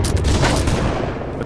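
Ship cannons in the Blackwake naval combat game firing from the left side, a dense, continuous rumbling barrage of overlapping booms with no clear gaps, loud throughout.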